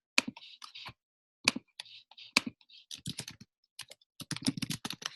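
Keys clatter on a computer keyboard in quick bursts of close, crisp clicks separated by short pauses, with a denser run of typing toward the end; no one speaks.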